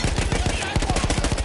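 Sustained machine-gun fire from a mounted World War I gun in Battlefield 1, rapid evenly spaced bursts running loud and close for the whole stretch with no pause.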